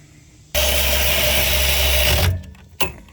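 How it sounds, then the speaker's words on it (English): A power ratchet tightens the rear brake caliper bracket on a 2020 Honda Accord 4-cylinder, giving a loud, steady mechanical whir for almost two seconds that stops abruptly, followed by a short clunk. "now that we tighten it down with the power ratchet, you want to give it just a little bit of a snug"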